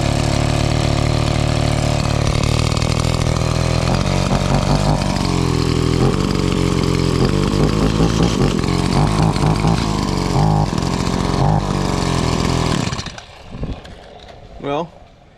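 A Stihl MS 180 chainsaw runs loud and close for about thirteen seconds, its engine labouring and bogging down with uneven revs before cutting out, then a couple of brief bursts follow.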